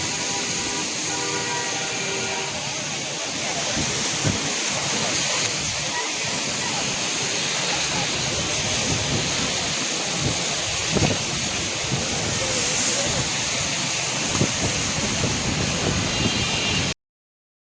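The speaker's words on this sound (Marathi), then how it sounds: "एवढा पाऊस आणि एवढा हवा येतं ना मरीन ड्राईव्हला, खूप वाऱ्याने परेशान केलं आहे" Rough monsoon sea at Marine Drive, Mumbai, during heavy rain gives a continuous loud roar of crashing surf and gusting wind, with rumbling wind noise on the microphone throughout and no clear speech.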